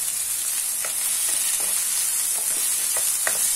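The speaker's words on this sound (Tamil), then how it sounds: "1 நிமிஷம் வதங்கினாவே கேப்சிகம் பட்டாணி சேர்த்து 1 நிமிஷம் நல்லா எண்ணெயில வதக்கிருக்கிறோங்க" Capsicum and green peas stir-fried in oil in a pan, with a steady close sizzle and scattered light scrapes and clicks from stirring.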